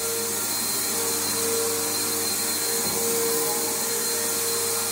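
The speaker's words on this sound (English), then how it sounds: "we're doing a little pre-vacuuming today" A Bissell Powerforce bagged vacuum cleaner runs continuously with a loud steady motor whine and airy roar, its pitch holding even apart from a brief dip in the middle.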